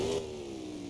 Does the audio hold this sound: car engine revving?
yes